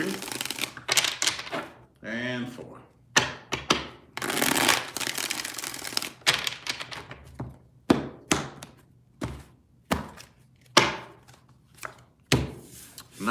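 Tarot cards being shuffled in a series of separate bursts of riffling and tapping, close and fairly quiet, with a voice speaking between the shuffles.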